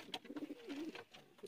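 Pigeons coo in a short run of soft, rounded murmurs, close and fairly quiet, with a few brief higher chirps mixed in.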